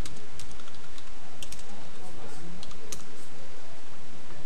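Steady typing on a computer keyboard, a continuous run of light key clicks with occasional sharper taps, close and moderately loud over a faint background hiss, with no talk.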